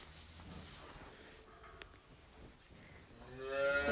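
A calf moos a few times at moderate distance, with faint outdoor background noise and a brief sharp click partway through.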